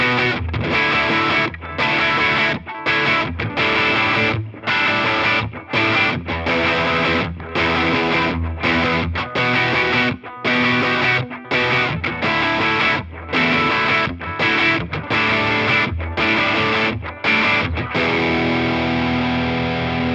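Electric guitar through a BOSS JB-2 Angry Driver overdrive pedal, loud distorted chords and riffs played in rhythmic bursts with short gaps between phrases, continuous and close.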